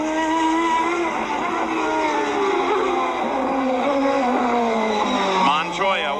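Screaming engine of a CART Champ Car on the final lap of a 1999 race, its pitch climbing and dropping through the closing corners, loud and continuous with a fluctuating whine.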